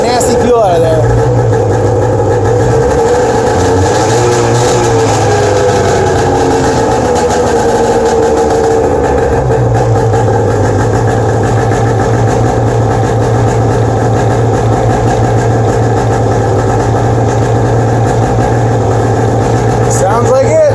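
A 1997 Arctic Cat EXT 580 EFI snowmobile engine runs loud and steady close by after a switch to fresh fuel, with a low drone and some boggy unevenness and a voice speaking over it.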